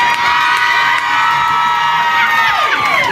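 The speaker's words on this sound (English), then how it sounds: "Seeing the crowd screaming at her" A comedy-show audience screaming and whooping at a heckler, a loud, dense wall of high-pitched crowd shouting that holds throughout.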